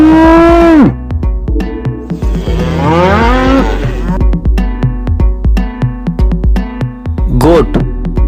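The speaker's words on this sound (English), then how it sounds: "Cow." A cow moos loudly and close, several long drawn-out lowing calls that rise and fall, with a steady rhythmic background beneath.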